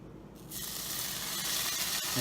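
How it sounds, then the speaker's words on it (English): Center cut bacon hits a hot cast iron skillet, breaking into a sudden loud, steady sizzle after a quiet moment, with continuous crackling spatter close up. "I'm going to fry up some bacon first"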